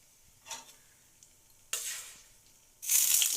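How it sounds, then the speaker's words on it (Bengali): Whole garam masala spices sizzling in hot oil for chicken korma, with soft stirring scrapes, then two louder bursts of frying hiss, the last one bright and sustained, close up with no talk. "এবার গোটা গরম মশলা দেব, নেড়ে চেড়ে"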